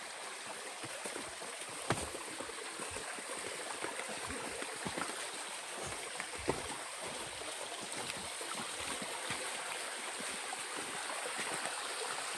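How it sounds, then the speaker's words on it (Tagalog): A flowing stream near Sitio Inigan on the way to Wawa Dam gives a constant close rushing, burbling wash of water with a few faint knocks, and no talking. "Talagang sapa talaga siya eh."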